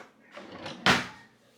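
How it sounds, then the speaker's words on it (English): A kitchen drawer slides open with a short soft rumble and ends in a sharp rattling clack, as a can opener is fetched from inside, heard close and fairly quiet. "can opener out my drawer"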